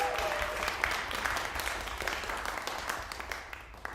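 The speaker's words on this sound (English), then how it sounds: "So let's give them a round of applause." An audience at an electroacoustic improvisation concert applauds with dense, scattered clapping that stays fairly even and moderately distant, slowly thinning toward the end.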